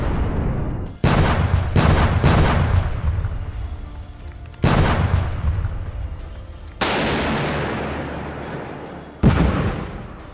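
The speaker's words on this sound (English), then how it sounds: "Then we see explosions" Several loud, sharp land mine explosions, each followed by a long rumbling decay, spaced irregularly over a few seconds.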